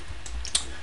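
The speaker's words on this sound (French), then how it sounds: "On clique 2 fois." Two quick, faint clicks of a computer mouse double-clicking in Maya 3D software, close and dry against a low background hum, with no talking.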